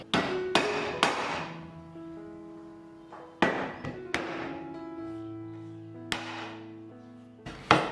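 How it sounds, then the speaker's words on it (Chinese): Sharp, heavy knife whacks smashing thick ginger slices on a cutting board, about eight of them at uneven intervals, each followed by a ringing, resonant decay. "把姜切成厚片，然后拍扁"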